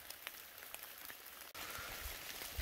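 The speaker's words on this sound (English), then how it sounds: "The rain's starting to pick up now, so we'll be hiking in the rain." Rain falls steadily on a mountain trail during a fall backpacking hike, a dense patter of close drops with a brief break midway before the shower resumes, fuller and louder.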